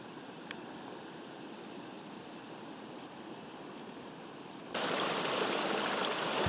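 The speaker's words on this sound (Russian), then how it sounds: "Талая снежная вода." Meltwater from a nearby snowfield runs down a mountain gully as a small stream, a continuous rushing trickle heard close by that turns noticeably louder and brighter near the end.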